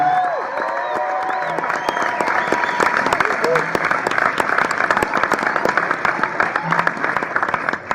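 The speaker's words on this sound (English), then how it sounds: "How about a nice round of applause?" Wedding guests break into sustained applause as the parents of the bride are introduced, a dense and continuous roomful of clapping with scattered cheers and a voice speaking over it.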